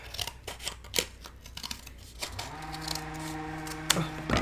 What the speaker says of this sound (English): So I'm just going to cut a pretty narrow strip.